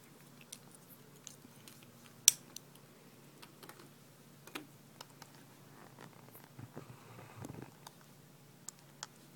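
Soft, steady low purring close by, with scattered faint ticks and clicks over a quiet background.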